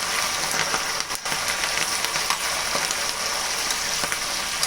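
Curry leaves fry in hot oil while Tamil-style masala peanut pakoda is being made, giving a steady, dense crackling sizzle with sharp pops scattered throughout, close and loud with no talking.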